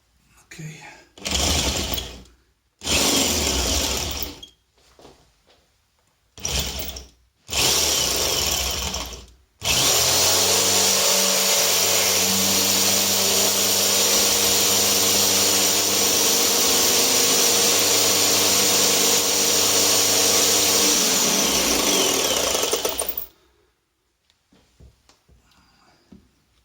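A power drill whirs in several short bursts into a screw with a stripped head, then runs steadily for a long stretch before cutting off, close up and loud.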